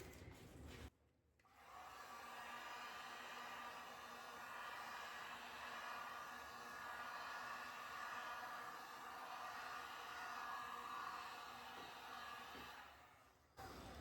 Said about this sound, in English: I'm gonna give it one last flyover with the heat gun.